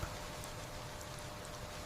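Steady, soft rain hiss with scattered droplets, continuous and even throughout, with no voices.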